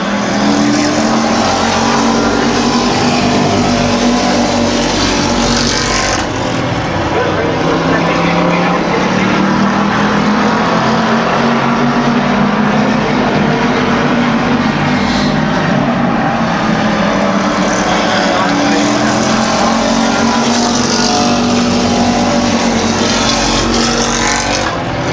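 Race cars roar around the Midvale Speedway oval in a constant, loud engine drone that swells and fades as the pack passes, while an announcer calls the action over it.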